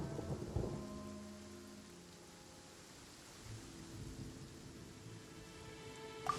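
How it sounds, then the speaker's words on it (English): Quiet, steady rain patters through a thunderstorm in the game Genshin Impact, with low distant rumbles swelling softly and no voices. "Where is the storm headed?"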